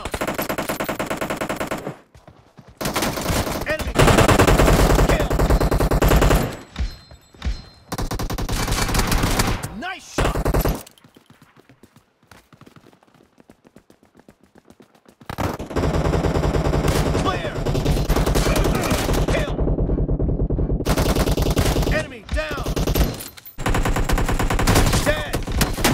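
Automatic weapon fire in the mobile battle-royale game PUBG Mobile: loud, sustained bursts of rapid shots that break off for a few quiet seconds midway, then resume heavily until the end.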